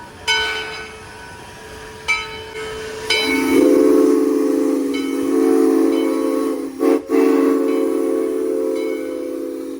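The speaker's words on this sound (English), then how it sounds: "It's the train. Choo-choo. Choo-choo." A steam train on the Yosemite Mountain Sugar Pine Railroad blows its whistle in short blasts, then holds a long, wavering tone over a hissing, rumbling train.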